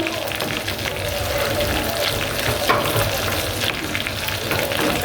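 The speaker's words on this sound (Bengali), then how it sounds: "এভাবে করলে হয় তো করলেই মুরগিটা ভাজা সুন্দর হয়" Chicken chaap, Dhaka style, fries in a shallow pan of oil with a close, steady crackling sizzle and a few stirring sounds, no voice over it.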